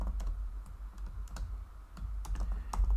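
Fingers type Java code on a computer keyboard, producing quiet, steady key clicks in quick irregular bursts over a low background hum.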